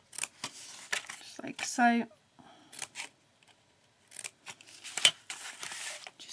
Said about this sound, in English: you just want to cut up all these into your two middle bits of the card.